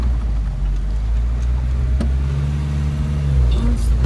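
A car crawls over a stony riverbed on a ranch trip, its engine holding a steady low drone with a brief knock and a slight rise in revs near the end.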